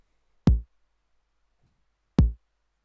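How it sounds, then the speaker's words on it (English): Bass drum from a Roland TR-8 emulating the 909 kick, level at maximum with full accent, struck twice alone with a deep, punchy thump and short decay, separated by a long silence. "The bass drum level on the 909 is at maximum with total accent"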